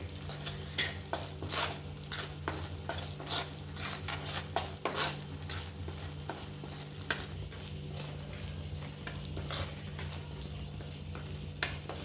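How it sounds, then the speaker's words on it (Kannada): Wheat flour bubbling in ghee for halwa, Gurudwara-style khada prasad, as a spoon scrapes and clinks against the pan in irregular strokes over a steady low simmer, close and fairly quiet. "ಅದು ಈ ಥರ ತುಪ್ಪದಲ್ಲಿ ಕುದೀತಾ ಇರಬೇಕು"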